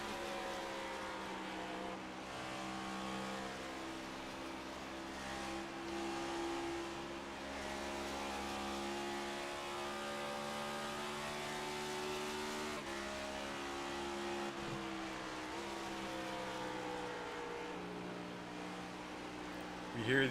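Next Gen Cup Series sim race cars at Darlington roar steadily with rising and falling revs and gear shifts, with a hint of tire squeal, while a voice talks over them.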